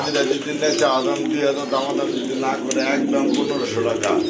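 White Danish pigeons coo repeatedly nearby in soft, rolling calls, with a person talking over them.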